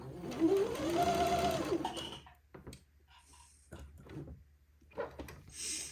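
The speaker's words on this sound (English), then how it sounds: "And then continue sewing up the other side of the placket." A sewing machine stitches a placket in a short, loud burst of rapid mechanical whirring, then stops; quieter handling clicks and faint rustling follow.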